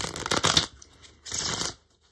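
Tarot cards being shuffled in two short riffling bursts, close and fairly quiet, with a brief pause between them.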